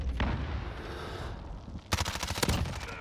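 A suppressed MP5 fires rapidly in Modern Warfare, with dense automatic bursts that pause briefly and then resume as a sharper, louder rattling string of shots.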